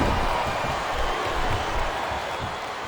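A large arena crowd in the WWE SmackDown video game roars and chants in a continuous dense wash of voices for a John Cena versus Chris Jericho championship match.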